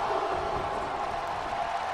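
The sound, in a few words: crowd cheering in WWE 2K19 video game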